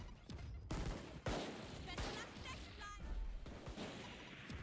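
Gunfire in the tactical shooter Valorant, a few sharp shots and short bursts heard fairly close amid game effects, with a voice talking quietly in between.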